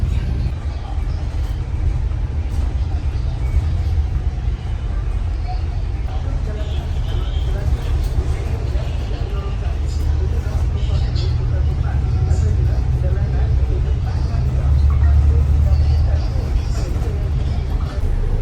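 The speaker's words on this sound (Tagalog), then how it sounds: "So this is the double-decker bus here in Kuala Lumpur." Interior of a double-decker bus on a ride in Kuala Lumpur, with a steady low engine rumble and road noise throughout, plus faint cabin chatter in the background.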